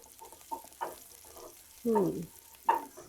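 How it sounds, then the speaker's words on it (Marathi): Ground coconut paste is stirred in a pan for a cabbage dish, with a faint low sizzle under a series of spoon scrapes and stirring strokes, some sharper and louder than others. "आता ह्या वाटप चांगला परतून घेऊया"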